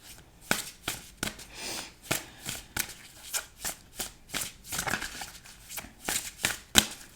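Oracle cards being shuffled by hand, a run of quick papery riffles and slaps repeating about every half second, close and fairly quiet, with no talking.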